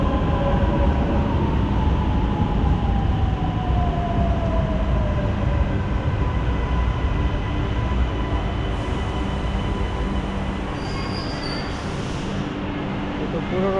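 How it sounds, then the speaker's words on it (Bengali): A metro train pulls into an underground station in Shenzhen, China, with a loud, steady rolling rumble and faint high wheel squeal for about fourteen seconds, drifting slightly lower in pitch as it slows, with possible faint voices. "আর এটা হচ্ছে এই পাশে চলে আসছে ট্রেন"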